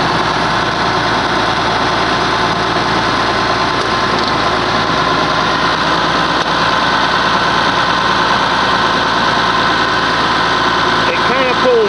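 Oliver 1850 tractor engine running steadily as the clutch is let out, a loud, constant close-up mechanical drone with no clear change in pitch or rhythm.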